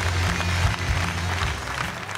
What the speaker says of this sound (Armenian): Եվս մեկ անգամ ծափարում ենք